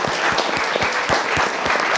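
A studio audience at a televised political talk show applauds steadily for about two seconds. The clapping is dense and even, fairly loud, with no talking.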